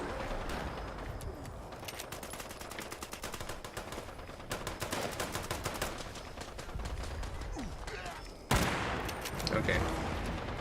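A Gatling gun in Fallout 76 fires in long rapid bursts, dense rattling volleys that keep going with brief gaps and a sharp loud surge near the end, while a voice talks over it.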